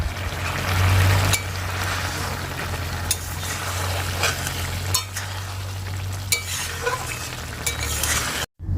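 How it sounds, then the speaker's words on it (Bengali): Pumpkin fries in hot oil with green chillies and nigella seeds, giving a steady close sizzle broken by occasional scrapes and clinks as a spoon stirs the pan. "কয়েকটা কাঁচা লঙ্কা কেটে দিয়ে তেলে ভেজে নিয়ে তারপরে মিষ্টি কুমড়োটা দিয়ে দিয়ে"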